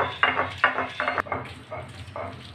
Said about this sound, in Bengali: দারচিনিটাকে একটু থেতো করে নিচ্ছি